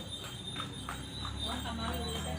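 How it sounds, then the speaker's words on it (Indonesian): Horse passing by near a spinach garden, hooves clip-clopping in a steady rhythm at moderate distance, with people talking over it and background noise throughout. "Ada kuda lewat lagi, lihat dah."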